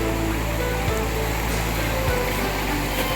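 A river runs beside a riverside campsite at Tok Gindo in Hulu Langat, a continuous broadband rush of flowing water, close and steady throughout with no voices.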